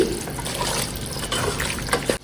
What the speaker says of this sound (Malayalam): ഒരു 1/4 ഗ്ലാസ് വെള്ളം ഒഴിച്ചിട്ട് ഇനി നമുക്ക് കുക്കർ മൂടി വെച്ച് വേവിക്കാം.